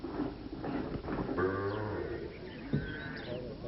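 Maldhari herders' dairy cattle low and moo in a jungle clearing in Gir, a drawn-out bellow rising midway over a murmur of other livestock and faint background voices.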